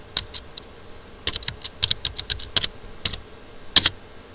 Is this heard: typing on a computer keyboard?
yes